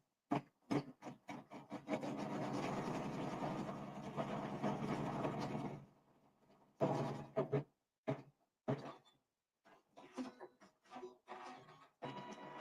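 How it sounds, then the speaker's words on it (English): Sewing machine stitching a tack-down seam in quilt fabric: a steady mechanical whirring run of about four seconds, framed by short bursts and ticking clicks, close and quiet with no talking. "sew another tack down stitch"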